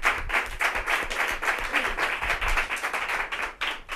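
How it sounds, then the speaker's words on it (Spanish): Dense, lively applause from a crowd, with many hands clapping continuously and loudly throughout. "pues un aplauso para el artista que lo ha hecho"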